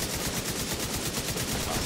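An active defense turret in The Division 2 fires a steady, rapid burst of automatic gunfire, dense and loud throughout the short stretch, with no talk over it.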